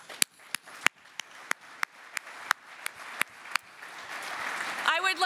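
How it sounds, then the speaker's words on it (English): An awards-show audience at the Saskatchewan Country Music Awards begins clapping, sharp isolated claps in a steady rhythm growing into a building wave of applause, with a voice rising near the end. "you really do deserve a huge round of applause."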